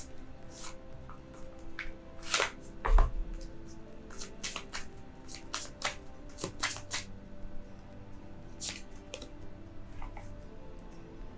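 Tarot cards are shuffled and drawn from the deck: scattered soft card flicks, slides and taps, close but fairly quiet, over a faint steady background hum.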